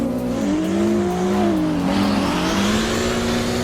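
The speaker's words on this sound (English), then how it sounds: "This is an example of semi-pro level sim drifting." Sim racing cars drift in a semi-pro competition, with engines droning and rising while tires squeal continuously, loud and close, with no talk.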